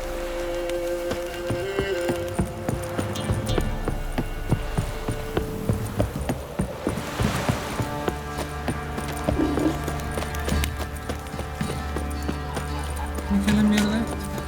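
Geralt's horse Roach gallops in The Witcher 3, a steady, fast clip-clop of hooves running continuously beneath game music and ambient sounds, with the occasional snort.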